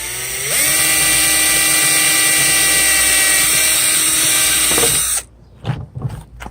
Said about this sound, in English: we're going to drill on the other side up here,